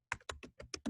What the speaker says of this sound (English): I'm just going to type my directions